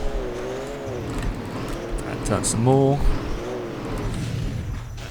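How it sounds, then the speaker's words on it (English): A monster truck engine drones steadily in the Rigs of Rods driving simulator, its low harmonic growl shifting pitch as the vehicle turns, with someone talking over it throughout. "This is a monster truck"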